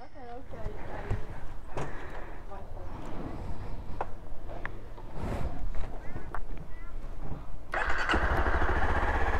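A motorcycle engine idling and revving nearby in Thailand, with people talking over the throaty rumble.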